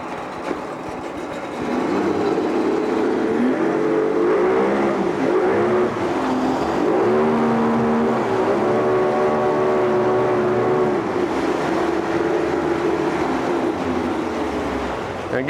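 A 1988 Yamaha 40hp two-stroke remote outboard boat motor runs after a short quiet start, its buzzing drone rising and falling in pitch through several revs, loud and close, with no talk.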